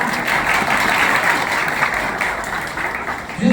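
An audience in a coaching-class lecture on educational psychology breaks into loud, dense, continuous applause that was started by a child, filling the whole stretch with close, steady clapping.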